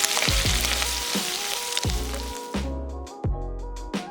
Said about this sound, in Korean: 청양고추 넣고 골고루 볶아줬다